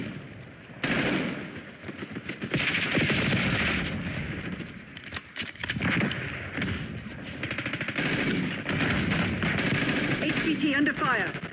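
Dense, rapid gunfire in Call of Duty: Black Ops 6 multiplayer, long rattling bursts nearly continuous after a brief quiet start, mixed with game voice chatter and radio callouts.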